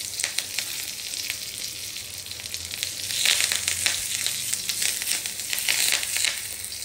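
Curry leaves sizzling in ghee with cumin for a flaxseed chutney, a bright crackling hiss that swells midway, near and steady, with no talking.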